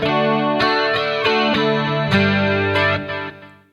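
An electric guitar with chorus, reverb and delay strums a few chords with a shimmering, wavering tone, each chord ringing out and trailing off in a lingering echo.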